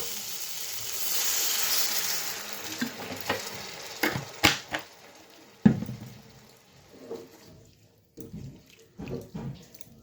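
Tomato masala frying in a pan for a tangra fish curry, sizzling with scattered clatters and stirring knocks, hissing strongly at first, then quieter with sharper intermittent bumps.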